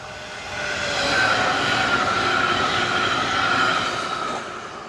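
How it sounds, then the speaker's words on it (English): A train rolls steadily past at close range, a continuous loud rumble of wheels on rails with a faint squealing tone that swells and then eases off, with no talking over it. "Oh, here comes the train."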